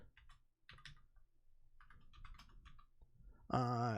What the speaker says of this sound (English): we'll start typing in the command